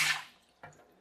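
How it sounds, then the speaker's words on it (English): A homemade RC boat built from a cardboard fruit tray sprays water in a filled sink, giving a splashy burst that fades, then a second shorter spray moments later. "yes, just sprayed water everywhere"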